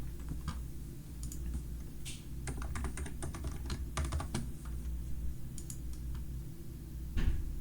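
Rapid computer keyboard typing, irregular bursts of clicky keystrokes close to the mic over a low steady room hum, with no voices.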